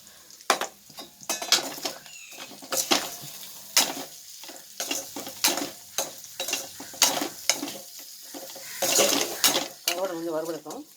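Dry cod fish fries in a pan, with close, repeated scraping stirs over a steady sizzle. A voice briefly sounds toward the end.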